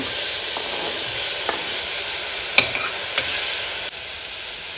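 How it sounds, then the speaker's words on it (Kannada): Chopped tomatoes frying in hot oil in a pan, a steady loud sizzle with a few sharp scrapes and clinks of stirring. "ಕಟ್ ಮಾಡಿ ಇಟ್ಕೊಂಡಿದ್ವಲ್ಲ ಟೊಮೊಟೊ ಹಣ್ಣು ಅದನ್ನು ಕೂಡ ಹಾಕೊಂಡು ಎಣ್ಣೆನಲ್ಲೇ ಉಟ್ಕೊಳ್ಳೋಣ"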